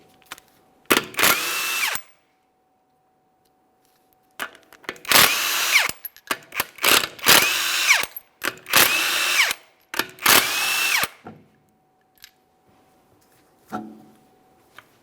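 Several loud, close bursts from a power impact tool spin off 21mm lug nuts from a 2008-2017 Mitsubishi Lancer wheel, each whine lasting about a second, separated by short quiet gaps.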